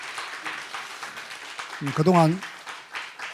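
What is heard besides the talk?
congregation applauding an engaged couple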